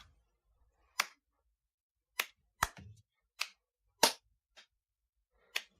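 Seven sharp, isolated hand claps ring out at uneven intervals in a quiet room, mimicking the clap from the game Division 2, each one crisp and brief with no talking.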